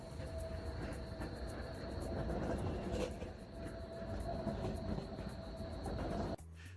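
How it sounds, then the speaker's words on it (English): A train rolls through a run-down Berlin neighborhood, its steady rumble and rhythmic clatter of wheels on rail joints filling the whole stretch at moderate distance, with a faint tonal hum before an abrupt cut near the end. "A train passes through the neighborhood hourly, making the ground shake each time."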